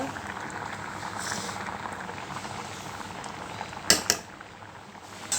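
Lentils for tender tamarind-leaf dal boil in a pot with a steady, soft bubbling hiss, broken near the end by a couple of sharp metallic clinks; no one speaks.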